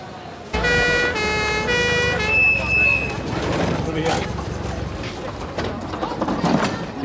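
An ambulance siren wails loudly and steadily at the start, then gives way to a busy street mix of traffic noise and people talking nearby.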